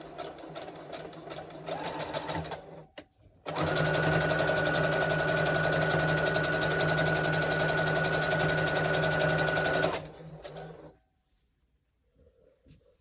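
A sewing machine stitches a quilt in a steady, close, mechanical whir lasting about six seconds, with quieter handling sounds before and after and a brief drop to near silence at the end.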